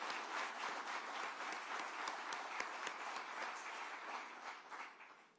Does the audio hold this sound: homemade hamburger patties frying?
no